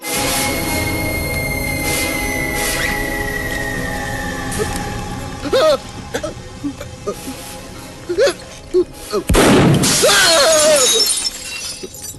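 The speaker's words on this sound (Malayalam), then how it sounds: "വെടികൊണ്ട് ഗ്ലാസ് എല്ലാം പൊട്ടിയല്ലോ" Under a tense drone and scattered voices, a sudden loud gunshot is followed by glass shattering and crashing, then pieces clatter near and loud.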